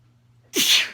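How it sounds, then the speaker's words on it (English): A single sudden sneeze, close and loud, after a moment of near silence. "Excuse me, I sneezed."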